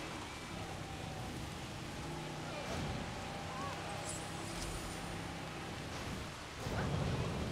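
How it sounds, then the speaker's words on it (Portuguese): Game thunderstorm in Jurassic World: steady heavy rain hiss with low rumbling thunder swelling near the end, a continuous dense wash of sound. "Isso aqui é uma tempestade?"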